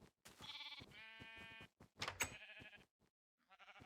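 Gray sheep in Minecraft bleat in several clear, close calls in a row, each a wavering voiced cry with short pauses between them, and a brief quieter bleat comes at the end.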